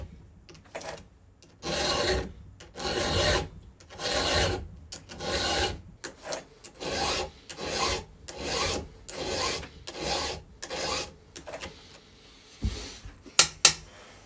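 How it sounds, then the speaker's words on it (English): A hand file rasps a light edge back onto a custom pipe with steady back-and-forth strokes, each a rough scraping swell in an even rhythm, close and alone, ending in a couple of sharp taps. "I'm just putting a light edge back on it."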